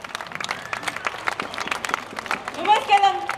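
An audience applauds knight Quim de Porqueres at the Terra de Trobadors festival: scattered outdoor clapping, moderately loud, mixed with crowd noise and a few voices rising near the end.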